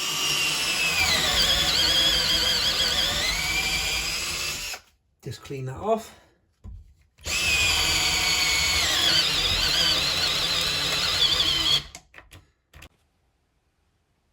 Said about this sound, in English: now we're going to try the Galax Pro, which is the most expensive drill